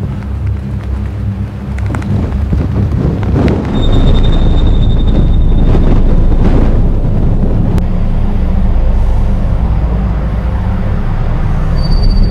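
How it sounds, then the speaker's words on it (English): Strong wind roars and buffets at a dam in Arizona. The rumble is loud and continuous with gusty surges, and no one speaks over it. "the way the wind's blowing"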